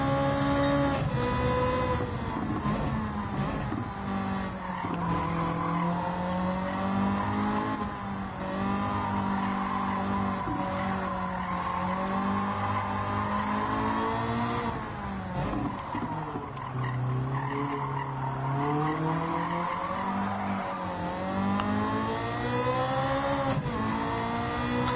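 A Caterham in Gran Turismo 7 races along, its engine note rising and falling through gear changes with tyres skidding and squealing, loud and continuous throughout.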